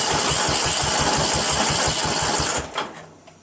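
A Craftsman 13.5 mid rear engine riding mower running with a steady, loud, rapid chugging rhythm, then cutting out abruptly and sputtering to silence near the end.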